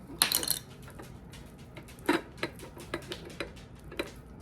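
Beef tallow melts in a pot while a spoon stirs it, giving quiet, irregular clinks and taps against the metal over a faint background hiss.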